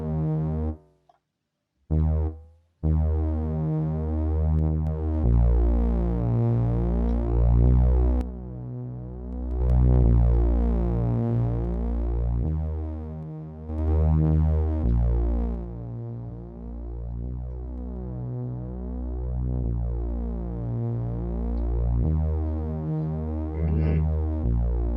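A thick, buzzing Reese bass made with the 3xOsc synth in FL Studio, run through Fruity Fast Distortion, plays sustained, growling notes in a steady repeating pattern, loud and gritty, after a few brief stuttering hits at the start.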